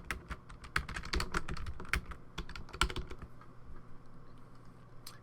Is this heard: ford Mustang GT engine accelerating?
no